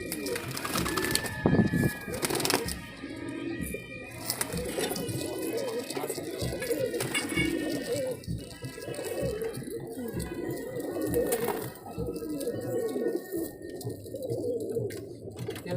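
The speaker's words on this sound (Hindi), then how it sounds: "ओवरऑल कबूतर बाहर छोड़ के दिखा देते हैं" Madrasi pigeons released outdoors coo and flutter nearby, wings flapping in bursts, while people talk over the birds.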